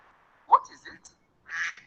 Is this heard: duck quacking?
yes